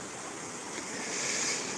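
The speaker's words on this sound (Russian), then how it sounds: "Вот она какая речка." A small river in Yalta rushes steadily past as a broad, continuous wash of water noise, close and fairly loud, with some wind over the microphone and no talking.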